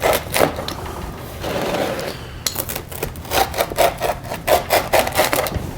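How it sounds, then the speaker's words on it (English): A knife or cutter slices through the crisp crust of a cast iron pizza baked on a pizza brick, making repeated close rasping, crunching strokes in an uneven rhythm. "We're just gonna slice it up."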